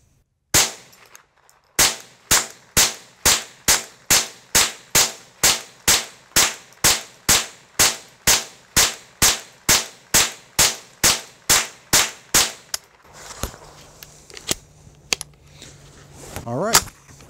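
Marlin 795 rifle emptying a full extended magazine at a target about 15 yards away, over twenty sharp, loud shots at a steady even pace, then rustling handling noise as the firing stops.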